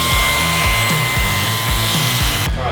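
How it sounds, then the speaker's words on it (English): A lathe machines down the flywheel of a Nissan GQ Patrol during a clutch replacement, giving a loud, continuous whirring drone with rhythmic low pulsing, cutting off abruptly near the end. "while Nathan very carefully machines down his flywheel"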